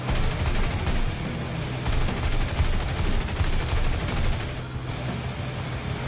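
Tank gunfire in the War Thunder video game on the Sinai map, rapid bursts of shots and booming impacts rolling on continuously and loudly, with a brief easing near the end.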